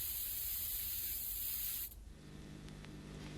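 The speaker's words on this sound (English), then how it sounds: "which was accomplished quite simply with a cheap can of spray paint" A cheap can of spray paint lets out a steady, loud hiss that cuts off abruptly near the two-second mark, leaving only faint room noise.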